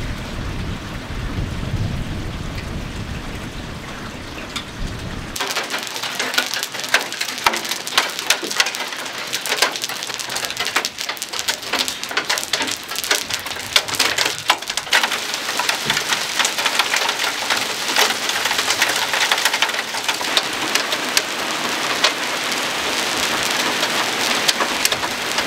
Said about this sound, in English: we've actually gotten some rain pretty consistent again here